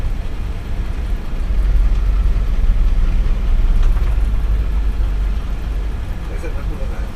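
A large vehicle drives around a driving-licence test course, its engine a steady low rumble that stays loud and continuous throughout.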